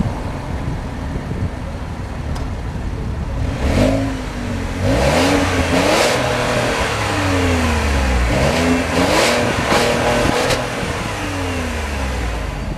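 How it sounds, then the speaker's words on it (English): A 2017 Ford Fusion Sport is started with a foot on the brake, and its engine then revs in several rising and falling bursts over steady idle, close and fairly loud, with no talking. "put your foot on the brake and start the car"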